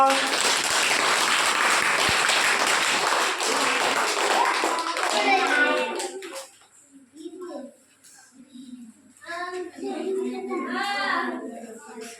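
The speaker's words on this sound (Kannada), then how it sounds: "ಚಪ್ಪಾಳೆ ಹಾಕೋರು" Group of children clapping in a classroom, dense rapid applause for several seconds that fades out, followed by an adult and children talking.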